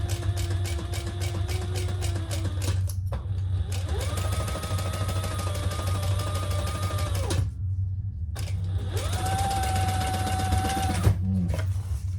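A sewing machine stitching a crossbody bag runs in steady bursts with brief pauses between seams, a close, even mechanical whir over a constant low hum.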